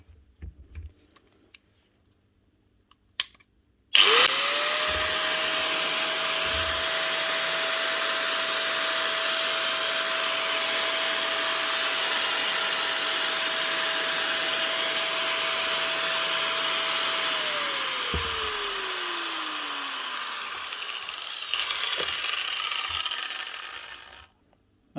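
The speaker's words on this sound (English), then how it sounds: "Motor's running perfectly." A repaired power tool motor with freshly replaced brushes starts after a few clicks, whines at a steady high pitch for about fourteen seconds, then is switched off and spins down smoothly, recorded up close.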